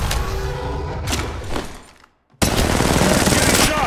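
Bursts of rapid automatic gunfire in the battle royale game Apex Legends, loud and close, broken by a short near-silent gap before dense firing resumes.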